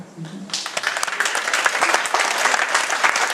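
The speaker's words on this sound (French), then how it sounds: "Et donc, vous pouvez applaudir." Applause rises from an audience at a theatre show presentation, starting just after a short voice and building into dense, loud, sustained clapping.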